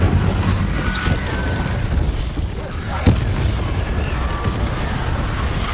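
Incendiary fire spell blasts in Hogwarts Legacy, a continuous rumbling roar of fiery bursts with a sharper boom near the middle, loud and dense throughout.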